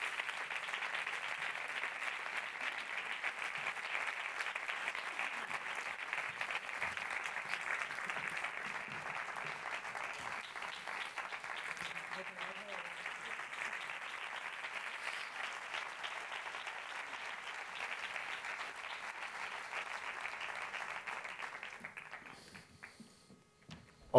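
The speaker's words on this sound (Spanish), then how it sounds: "Fuerte aplauso para él." An audience at the closing gala of a film festival gives sustained applause for an award winner, a dense, even wash of many hands clapping for over twenty seconds before fading out abruptly.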